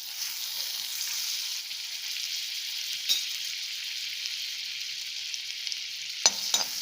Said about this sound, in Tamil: ஸோ பட்டர் மெல்ட் ஆகட்டும்.